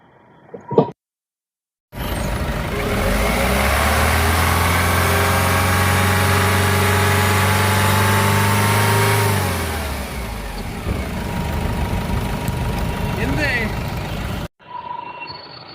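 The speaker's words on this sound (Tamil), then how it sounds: "ரைசிங் சவுண்ட் கேளுங்க." A Mahindra Xylo with the Eagle engine revved up from idle: a loud sustained rise in engine pitch held for several seconds, then easing back down toward idle, with a click before and after.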